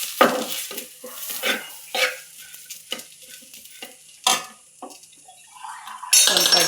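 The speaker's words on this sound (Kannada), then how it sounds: "ಮಟನ್ ಸಾರು ಪೌಡ್ರು ಎಲ್ಲ ಹಾಕ್ಕೊಂಡು ಫ್ರೈ ಮಾಡ್ಕೋಬೇಕು" Pan of country-style chicken gravy being fried with mutton curry powder, with a spoon scraping and stirring in repeated strokes over a steady sizzle, ending in a louder burst of frying; no talking.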